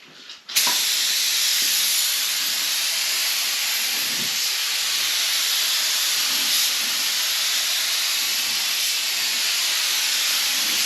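A spray gun lays red paint onto a car door during body work, giving a loud, steady hiss that starts abruptly and runs unbroken throughout.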